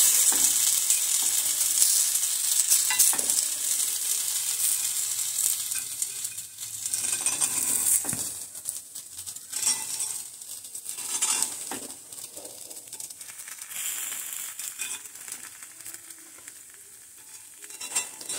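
Flatbreads fry and sizzle on a pan with a little ghee, a bright continuous hiss broken by soft scraping, tapping clatters as the breads are flipped one after another, close and fairly loud.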